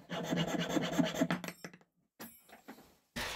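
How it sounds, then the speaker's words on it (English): A coarse needle file rasps a groove into a horn, quick rough back-and-forth strokes up close, followed by a brief pause and a few more short scrapes. "I finally dug out this really coarse needle file, and now we're getting somewhere. Finally, a quick groove for the glasses"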